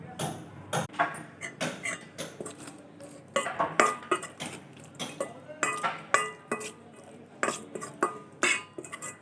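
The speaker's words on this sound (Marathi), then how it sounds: "आता कांदा आणि लसणाच्या फोडणीवर ते परतायचं." Marinated prawns are sautéed on an onion-garlic tempering, with a spatula clattering and scraping rhythmically against the pan in quick, repeated strokes and only a light frying hiss underneath.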